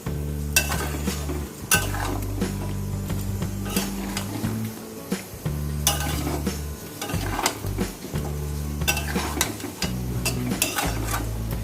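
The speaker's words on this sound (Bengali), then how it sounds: "এবার একটু গরম জল দেব, দিয়ে এটাকে আবার ভালো করে কষবো।" Mutton curry being stirred and fried down in a pan after hot water goes in, with repeated scraping strokes of a spatula against the metal pan over a steady sizzle, close up and loud, no talk.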